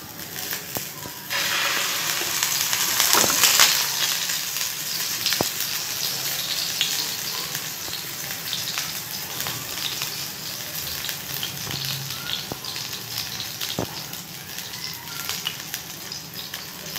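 Turkish köfte patties fry in hot oil in a frying pan, giving a steady, close sizzle throughout with a few brief clicks and scrapes.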